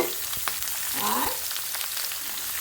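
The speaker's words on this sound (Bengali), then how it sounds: "আদাটা একটু ভেজে নিয়ে ওর মধ্যে দিয়ে দেবো কেটে রাখা কুমড়োগুলো" Cut pumpkin dropped into hot oil with ginger, giving a steady close frying sizzle throughout, swelling slightly as the pieces go in.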